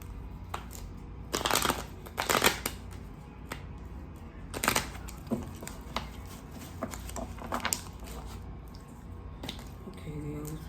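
Tarot cards get shuffled in soft, uneven bursts of riffling and slapping, close and fairly quiet, with quiet pauses between the bursts.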